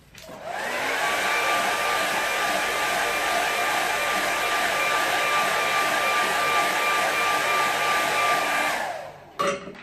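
A hair dryer runs steadily and loudly for about nine seconds, drying a watercolour landscape painting, then cuts off with a brief clunk at the end.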